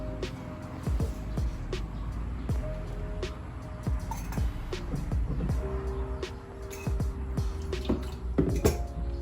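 Dripping and splashing water during hand washing under running water, with irregular close drops and splatters over a steady trickle.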